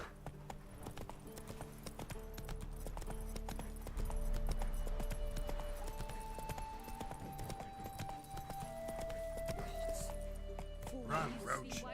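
Roach, a horse in the video game The Witcher 3, gallops with a steady, rhythmic clip-clop of hooves close by, running continuously with game music and voices underneath.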